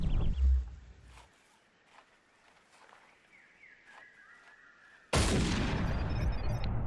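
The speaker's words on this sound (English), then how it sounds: "Oh, I shot it in the shoulder." A hunting rifle fires in Cabela's Big Game Hunter: Pro Hunts on PS3: a single loud, sharp blast bursts in after several seconds of quiet ambience and rings on with a dense, sustained tail.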